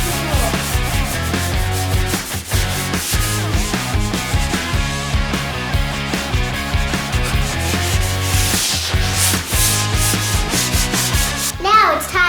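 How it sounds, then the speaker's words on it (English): Joint compound on a wall is sanded smooth by hand, a loud, continuous scratchy rubbing in steady back-and-forth strokes, close up and uninterrupted for over twelve seconds. "and then we'll sand it out"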